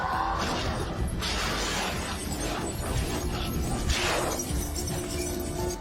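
Crash and shattering debris following a grenade detonation in a police station scene from the action film Person of Interest, loud and dense with breaking glass and clattering mechanical noise throughout.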